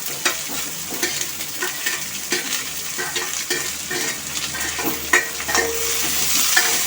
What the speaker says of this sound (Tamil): வெங்காயம், பச்சை மிளகாய், இஞ்சி, தேங்காய், கருவேப்பிலை எல்லாத்தையும் ஒன்றா போட்டு